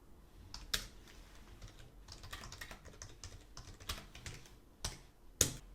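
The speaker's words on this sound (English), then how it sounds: "And once we type some new code and save" Computer keyboard typing while code is entered in a project, with uneven bursts of clicky keystrokes and a few sharper louder taps, close and alone without talk.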